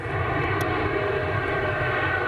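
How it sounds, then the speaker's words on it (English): An Air Asia passenger aircraft carrying 359 passengers flies on one engine after violent shaking, its loud, steady engine drone filling the cabin without pause, with no talking. "The Air Asia flight returning to Perth on one engine"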